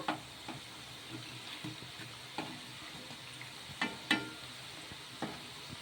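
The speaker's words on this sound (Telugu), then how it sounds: "రెండు సైడ్ల గోల్డెన్ కలర్ వచ్చే వరకు ఇంకా ఫ్రై చేసేసుకోవాలి" Vadas made from leftover idli batter fry quietly in oil, a soft steady sizzle punctuated by faint scattered clinks and taps from the pan, with no voices.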